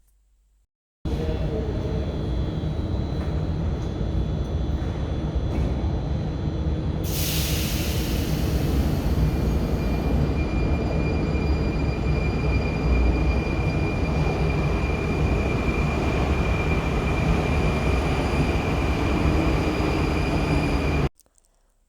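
A Prague metro train near a station entrance gives a loud, sustained rumble, and a high whine joins partway through. The noise holds steady for about twenty seconds, then cuts off abruptly.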